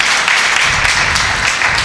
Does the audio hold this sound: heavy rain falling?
no